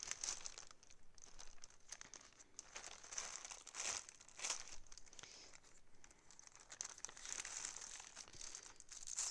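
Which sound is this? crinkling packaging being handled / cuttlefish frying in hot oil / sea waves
crinkling packaging being handled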